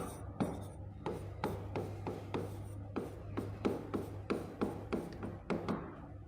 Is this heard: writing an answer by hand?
yes